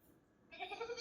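A person imitates a horse neighing during a group game of entering like different animals: a brief, bleating, wavering vocal cry that starts halfway through and grows louder near the end, with no other talk.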